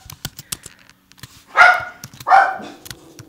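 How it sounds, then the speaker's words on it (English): Dogs bark twice in quick succession, two loud, close barks about a second apart against a quiet indoor background with faint clicking. "Sorry, my dogs are barking."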